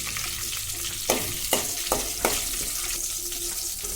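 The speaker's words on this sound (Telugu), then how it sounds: "ఇప్పుడు ఇందులో కరివేపాకు, అలాగే ఒక 2 ఎండుమిరపకాయలు వేసి ఒకసారి కలుపుతున్నాము." Curry leaves and two dried red chillies fry in oil with cumin in a pan for tomato pickle, a constant close sizzle broken by four sharp scraping stirs in quick succession, no voices.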